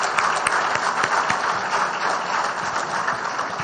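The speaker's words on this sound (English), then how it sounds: "I think she deserves a huge round of applause." Sustained, dense applause from a large audience at the groundbreaking ceremony for Syngene's new campus at Genome Valley, steady and loud throughout with a few sharper claps standing out near the front.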